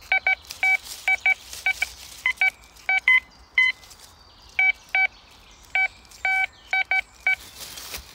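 Metal detector sweeping over forest ground, sounding a series of sharp electronic beeps in irregular pairs and clusters, clear and close over a quiet outdoor background.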